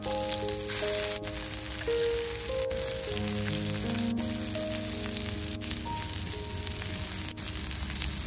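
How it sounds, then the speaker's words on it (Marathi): Semolina-coated prawns fry in hot oil in a pan, giving a steady, close sizzle with small crackles that carries on unbroken throughout. "2-3 मिनटां बरी भाजून घेवंक जाय।"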